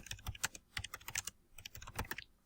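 Rapid, uneven clatter of computer keyboard keys struck in bursts with short pauses, close and clear, with no voices.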